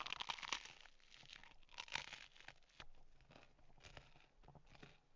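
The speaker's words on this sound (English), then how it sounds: "I wonder what that crunch sounds like on the mic." Someone bites into crunchy food right by the microphone, making a few sharp, crackly crunches and crinkles that fade into quieter chewing, all fairly soft.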